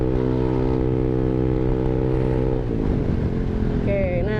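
A Honda ADV 150 scooter fitted with an R9 Alpha exhaust holds a steady high-RPM drone, loud and close, then the pitch shifts and wavers as the throttle changes near the end.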